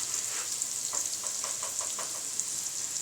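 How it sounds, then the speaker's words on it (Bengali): Sliced onions frying lightly in a pan with a pinch of salt give a soft, steady sizzle, a faint hiss dotted with small crackles, close by and quiet. "এখন এভাবে করে আমি পেঁয়াজগুলোকে একটু ভেজে নিব।"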